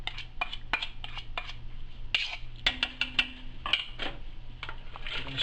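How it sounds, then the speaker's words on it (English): Metal spoon stirring crab bisque with tomato paste in a pot, scraping and clinking against the sides in quick irregular strokes over a low steady hum, close and fairly quiet. "We're going to stir this really good."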